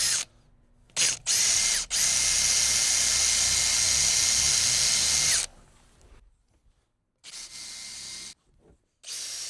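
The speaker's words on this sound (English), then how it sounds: "I'm just going to use the drill to cut down on that panel" A power drill drives a fastener through a felt wall panel inside a Ford Transit van in several bursts: a short whir, then a long sustained whine, then two more brief runs, all close and loud.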